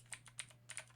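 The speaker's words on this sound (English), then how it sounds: "I'm typing because I want to see where they come from" Quick, light clicks of fingers typing on a computer keyboard, around eight crisp keystrokes in a short irregular burst, close and fairly quiet, with a low steady hum underneath and no speech.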